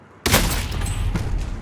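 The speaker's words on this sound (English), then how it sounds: "they're shooting at me" Sustained burst of gunfire in the Call of Duty: Warzone battle royale, opening abruptly after a brief hush and rolling on as dense, loud, continuous shooting with no voices.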